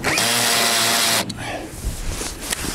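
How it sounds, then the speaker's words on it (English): A power tool whirs steadily for about a second while tightening a solar panel mounting bolt, then stops abruptly, followed by faint clicks and handling noises close by. "now I can secure this first bolt"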